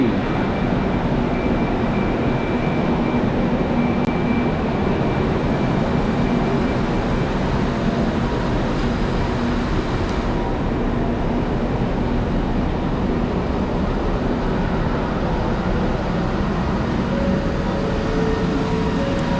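A driverless LRT train rumbles steadily through a station in Kuala Lumpur, Malaysia, a loud continuous roar of wheels and motors with a faint rising whine near the end.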